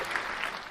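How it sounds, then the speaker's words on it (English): Crowd applause sound effect, a brief burst of many hands clapping, faint and steady, played back in the background of a live talk show. "Giving myself a crowd applause for an exam is absolutely criminal"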